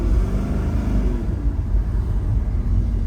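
An 1100hp supercharged Cadillac CTS-V engine drones loud and steady from inside the car while driving, a continuous low rumble with no voices.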